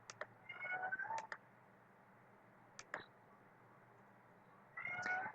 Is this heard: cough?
no